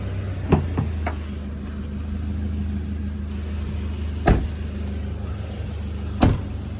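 A 2005 Toyota Fortuner idles with a steady low engine hum, close by, and a few sharp knocks or taps stand out against the running motor.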